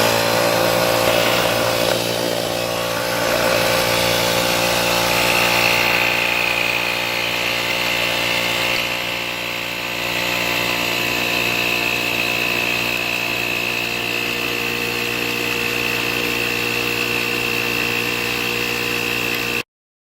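A Hyper Tough portable 12V tire inflator air compressor runs continuously with a loud, steady buzzing drone and rattling whine, close by and unbroken for the whole stretch before cutting off abruptly at the end.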